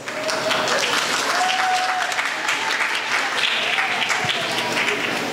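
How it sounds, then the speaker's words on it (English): Steady, full applause from a crowd at the Sanfest primary prelims in Trinidad and Tobago greets the conductress, sustained clapping with a voice speaking faintly over it. "And another round of applause for the conductress."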